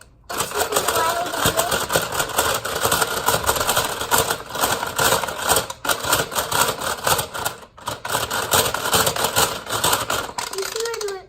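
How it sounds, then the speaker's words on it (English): A Kumi Kreator bracelet maker spinning, a loud continuous clattering mechanical whir with rapid ticking that runs almost nonstop, dipping briefly a couple of times. "Now we're gonna spin it. It spins the bracelets."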